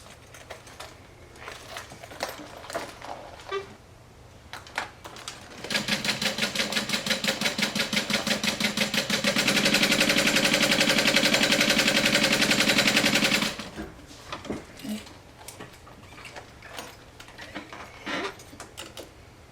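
A sewing machine stitches a basting line around a fanny pack, its needle hammering in a fast, steady rattle that runs for several seconds, speeds up and grows louder midway, then stops abruptly, with quieter handling noises before and after.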